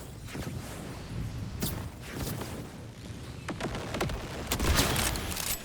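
Gunfire from a shooter in Borderlands, aimed at Cratch: a dense, steady stream of rapid shots and impacts that continues throughout, loud and near, with no talk.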